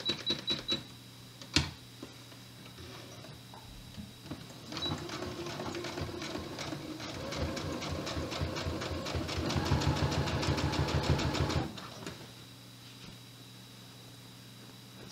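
A sewing machine stitches a duffle bag, its needle clattering in a fast, even rhythm that starts after a few clicks and runs for several seconds before stopping.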